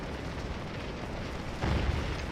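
Distant rumbling artillery and musket fire in a Scourge of War: Gettysburg Civil War battle, a continuous low roar with one heavier boom near the end and no voices.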